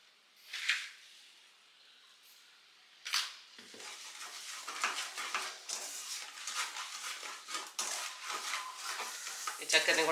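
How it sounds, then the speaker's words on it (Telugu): Tender coconut payasam being stirred in a pot: quiet at first with a couple of isolated scrapes, then a steady run of close spoon scraping and bubbling against the pot. "ఒక 100 ml అయ్యేంత వరకు దగ్గర పడటానికి తిప్పుకుంటూనే ఉండాలి, లేకపోతే పొంగిపోతాయి."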